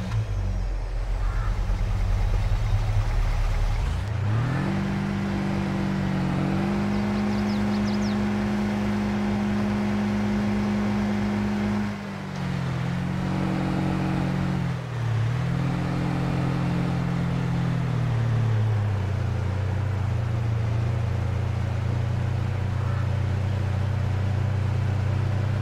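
A vehicle engine runs steadily in Farming Simulator 22, with a loud, close diesel drone that rises in pitch as it revs, dips briefly and settles back, continuous with no speech.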